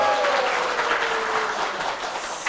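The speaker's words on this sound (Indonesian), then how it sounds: "Tepuk tangan dulu." An audience at a youth event in Yogyakarta applauds, a dense continuous patter of many hands at close range with a faint tonal whine under it.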